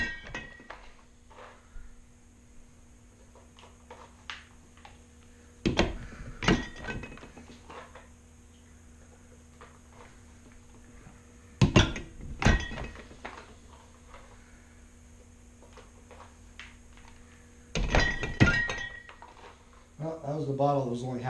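Homemade wine bottles being corked with a hand corking machine and synthetic corks, three sharp clunking presses spaced several seconds apart, each with clinks of glass, while a person talks throughout.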